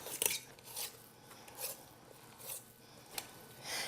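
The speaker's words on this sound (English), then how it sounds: "We'll add a little bit more of the cream and the butter and go back to mashing." Boiled potatoes mashed with cream and butter in a pot, with faint soft scraping and squishing strokes repeating every second or so, quiet and close with no talking.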